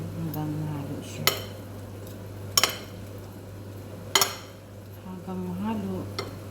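A spoon stirs sauce in a metal pan over a steady low stovetop hum, with three crisp clinks against the pan's side at irregular intervals and a brief murmur of a voice in the background.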